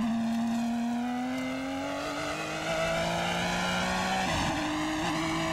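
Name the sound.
IMSA GTP prototype race car engine on track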